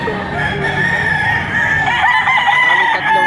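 Roosters, green-legged Bulik gamecocks about eight months old at a poultry sale in Padre Garcia, Batangas, crow and cluck near and loud throughout, with long drawn crows over steady farmyard clucking.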